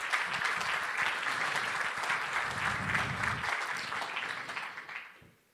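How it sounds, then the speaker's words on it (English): Sustained audience applause at a London investment conference on inclusive ESG in emerging markets, a dense steady clatter of many hands that holds for several seconds and then tapers off toward the end. "So a round of applause for all our strategic partners,"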